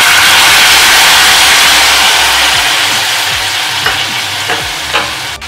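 A pan of corn soup base sautéing in ghee sizzles loudly and steadily up close, with a few soft stirring scrapes near the end.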